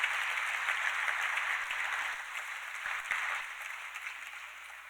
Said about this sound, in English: So please, again, a big round of applause to both of them.